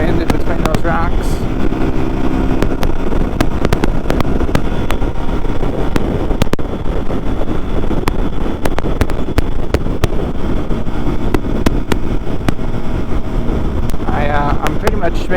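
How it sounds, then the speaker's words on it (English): Strong sideways wind buffeting a helmet microphone during a motorcycle ride between rocks, a loud continuous roar with engine drone underneath and intermittent clicks. "A lot of sideways wind in between those rocks."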